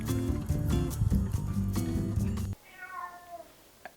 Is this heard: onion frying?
no